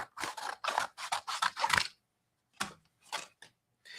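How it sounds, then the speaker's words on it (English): Scissors snip in a rapid series of short, close crisp cuts, then pause and give a few more separate snips, with no talking. "I need scissors, which are, of course, under my bag of everything"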